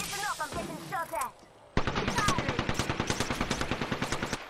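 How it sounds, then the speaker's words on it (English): Automatic gunfire in a battle royale shooter as the ring closes, first a brief burst under a talking player, then after a short lull a rapid, steady string of loud shots rattling on to the end. "Listen up, I'm getting shot at."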